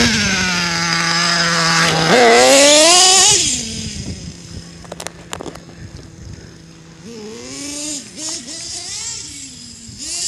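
Small nitro engine of an RC truggy (LRP .32 on a Mugen) revving loudly, then idling with its pitch climbing steadily upward while running low on fuel, a buzzy, harmonic-rich whine close by.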